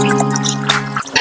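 Rice being washed in water in a restaurant kitchen while preparing Dindigul-style mutton biryani, with close dripping and sloshing of liquid over a steady low kitchen hum.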